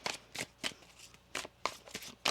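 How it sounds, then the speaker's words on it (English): Tarot cards are shuffled by hand in a series of quick riffling bursts, about eight crisp flurries with short pauses between them, close and fairly quiet. "One more shuffle here."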